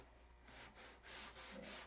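Hand sanding of a wooden boat hull: soft, close rasping strokes in a slow repeated back-and-forth rhythm, quiet and alone over a faint low hum.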